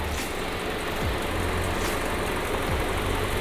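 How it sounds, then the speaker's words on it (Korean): Hyundai LF Sonata 2.0 engine idling steadily in the engine bay, an even low hum heard close up with no talk over it. "엔진 소리도 일정합니다."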